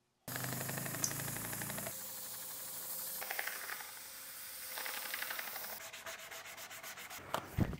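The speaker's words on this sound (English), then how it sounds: "Sanded down to 220 grit." Sandpaper rubs against a soft willow wood bowl spinning on a woodturning lathe, a steady close hiss that shifts in pitch as pressure changes, with the lathe's motor hum and a clatter at the end.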